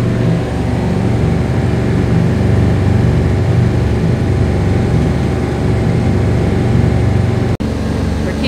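A sailboat's engine runs loud and close, a continuous low droning rumble that holds steady throughout, broken by one abrupt brief dropout near the end.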